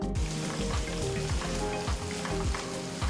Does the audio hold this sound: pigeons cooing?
no